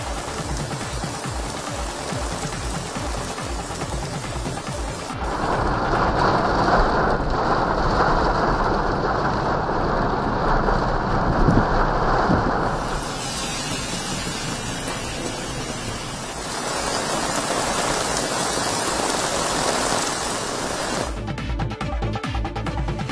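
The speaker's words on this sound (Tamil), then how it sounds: "சிந்தாதிரிப்பேட்டை உள்ளிட்ட இடங்களில் பரவலாக மழை பெய்தது" Heavy rain pours down in Chennai as a steady, dense roar of water with no voices, swelling louder in long surges before easing back.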